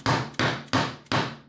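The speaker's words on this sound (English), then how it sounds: "And then I'm going to take my dead blow hammer." Four evenly spaced, solid thuds as a dead blow hammer knocks PVC pipe fittings together, each blow close and loud with a short decaying rumble.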